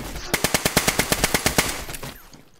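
Rapid string of about a dozen sharp pistol shots in a video game, evenly spaced and loud, ending abruptly and leaving a brief fading tail.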